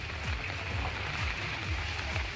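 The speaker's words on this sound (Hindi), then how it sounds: "यहां झमाझम बारिश हो रही है।" Heavy monsoon-style downpour in Chandauli and Varanasi, India, a steady dense hiss of rain pouring on surfaces, constant and loud throughout with no voices.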